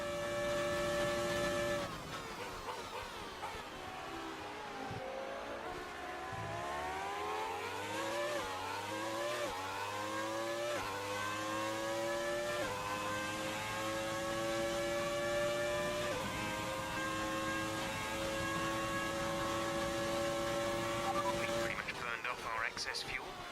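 Classic car engines race in a car racing video game, with whining engine tones that climb and drop through gear changes. The sound is continuous and fairly loud over a slightly noisy background.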